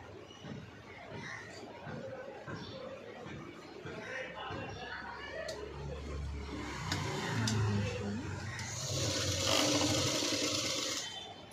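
A sewing machine stitches a V-neck cut-work blouse, its steady whirring running under background chatter and occasional laughter, growing a little louder and brighter toward the end.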